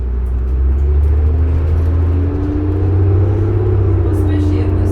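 A 2005 New Flyer D40LF transit bus engine runs with a steady low rumble and drone, heard from inside the bus, with a faint rising whine, constant and loud throughout.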